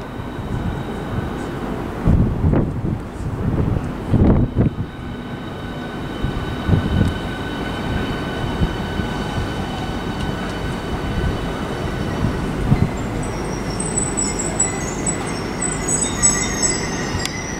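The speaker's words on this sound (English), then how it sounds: "See this one go out in a minute." A Class 395 electric train on HS1 rumbles steadily past at close range through Stratford International station, with a high whine and a brief chime near the end as it pulls through.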